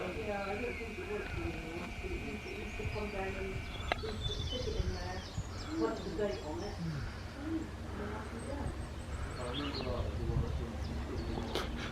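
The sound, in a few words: birds chirping at bird feeders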